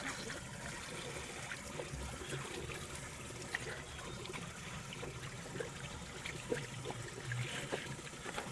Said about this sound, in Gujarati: તો પાણી ચાલુ કરી દઈએ.